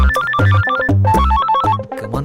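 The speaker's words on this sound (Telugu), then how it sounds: "ఫోన్ ఎత్తుర్రి" A telephone rings with a repeating electronic melodic tone, loud and close, looping in quick bursts over about two seconds with no talking.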